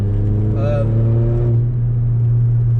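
A Mercedes CLA45 AMG W117 with a Stage 1 tune accelerates from inside the cabin, a steady low engine drone with a brief rising tone as the turbo spools, under people talking.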